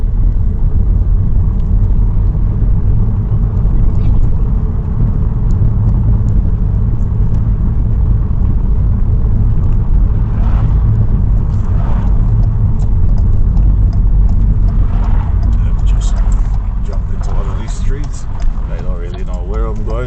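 A car drives through the residential streets of Amersfoort, Netherlands, its engine a steady low rumble with road noise throughout, close and continuous, while someone talks over it.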